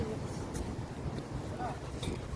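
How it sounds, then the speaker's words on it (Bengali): Strong wind blows at the seaside on Puri beach, a steady, close roar buffeting the microphone with no pauses throughout. "খুব হাওয়া কিন্তু এখানে, প্রচুর হাওয়া"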